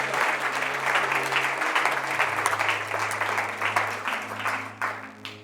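A church congregation at a French-speaking evangelical service breaks into loud, sustained applause that claps steadily throughout, over a low held tone.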